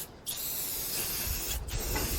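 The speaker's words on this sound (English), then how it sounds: "I'm just going to put some coats of clear on there to seal it up" A short burst of aerosol clear coat sealer hisses onto a carved wooden sign, a steady near spray broken by a brief pause before it resumes, with no voices.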